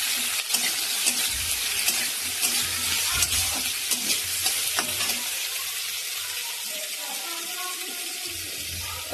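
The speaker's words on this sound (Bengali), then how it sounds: "সব দিয়ে দিলাম। নাড়াচাড়া করে নেবো।" Soya chili ingredients are stirred in a frying pan, a loud steady sizzle with repeated scraping, clacking strokes of a spoon against the pan, heard up close.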